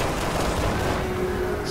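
Gunfire in the Resident Evil 6 video game aimed at a liquid hand creature: a dense, continuous burst of shots at steady loudness through the short stretch, with a faint voice underneath.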